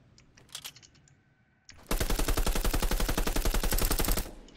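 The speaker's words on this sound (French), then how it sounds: "Ah tiens, ils ont déjà mis... Oui, pistolet mitrailleur." Rapid submachine gun fire in the video game Fortnite, a dense unbroken burst lasting about two and a half seconds after a quieter stretch of faint clicks and small sounds.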